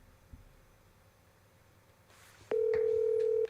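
A phone keypad tone sounds for about a second during a call, a steady loud beep preceded by faint clicks and low background hum, with no talk.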